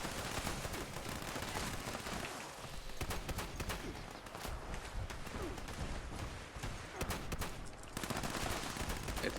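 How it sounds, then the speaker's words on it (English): Rapid shotgun blasts from a fast-firing weapon in Fallout 76, a dense, continuous barrage of gunfire and game noise with little pause, loud throughout. "That's the fastest shooting shotgun I ever seen."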